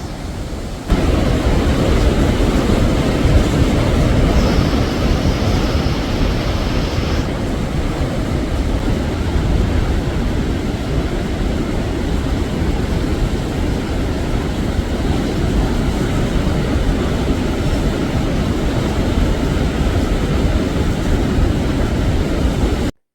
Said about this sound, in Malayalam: രണ്ട് മലകൾക്കിടയിൽ കൂടി ഒരു വലിയ കുഴിയിലേക്കാണ് ഈ വെള്ളം വന്ന് പതിക്കുന്നത്.